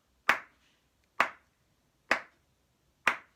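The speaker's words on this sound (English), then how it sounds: "Here's a pattern for you to clap." Four sharp hand claps in a steady, evenly spaced rhythm, one about every second, clean and close with silence between them, forming a simple clapping pattern for children to copy.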